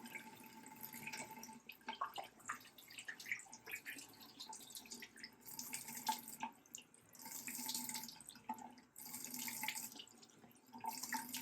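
Running tap water splashes into a sink as a face is rinsed off, a steady close trickle with irregular splashy surges and brief drips throughout.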